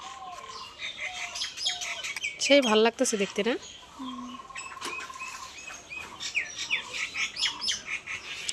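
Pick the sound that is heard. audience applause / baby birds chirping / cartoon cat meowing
baby birds chirping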